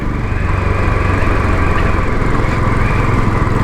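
A Royal Enfield Bullet 500 motorcycle single-cylinder engine runs steadily at close range, a loud even thumping chug with a constant buzzing drone throughout, no talk.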